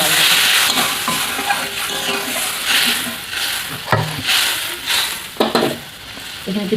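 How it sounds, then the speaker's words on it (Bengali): Masala frying in a pan for a Bengali brinjal-and-prawn curry sizzles loudly and steadily after a splash of water, with a few sharper bursts and stirring scrapes, no talking. "তো আমি এতে জল দেবো, খুব কম জল দেবো, অল্প জলে করবো।"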